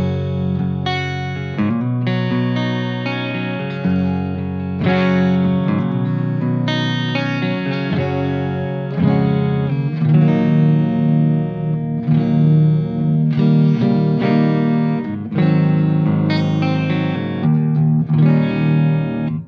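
Clean channel of a St. James amp feeding an ESP LTD James Hetfield Iron Cross electric guitar on the neck pickup, bathed in reverb: steady chords and arpeggiated notes ringing with a wash of ambience, loud and alone.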